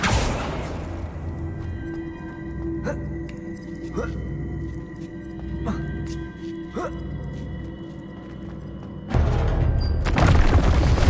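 The Accio summoning spell from Hogwarts Legacy, cast as a game effect: rising magical whooshes and resonant tones recur several times over a low rumbling bed, ending in a louder, brighter burst.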